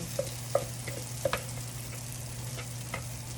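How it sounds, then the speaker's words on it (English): Cornbread batter sizzles in a hot skillet with a steady, faint frying hiss and a few light clicks and scrapes on top, no voices. "Cornbread into my hot skillet. You can hear it sizzle."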